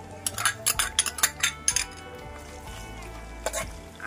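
Onion going into a pan of warm oil with curry leaves for a Marathi harbhara bhaji, heard as a run of sharp clinks and scrapes of utensils against the pan, with a brief soft sizzle underneath and no talk.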